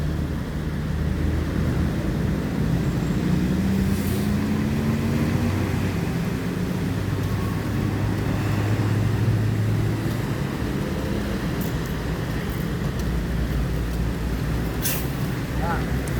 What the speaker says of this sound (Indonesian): Transport bis keempat masuk ke terminal Palembang pagi ini, yang pakai bodi Laksana SR3.